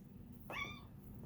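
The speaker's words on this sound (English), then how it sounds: "For some reason my cat is screaming at me," A cat lets out a single short, loud meow-like cry indoors, rising sharply and trailing off within half a second against a steady low background hum.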